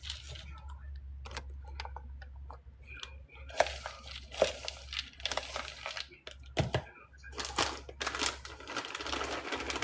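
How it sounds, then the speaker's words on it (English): Brown sugar and pecans stirred together in a bowl, giving close crunchy scrapes and gritty rattles in uneven strokes, with some talking underneath. "now then I'm going to stir together my dry ingredients. Get that brown sugar and pecans just mixed together well."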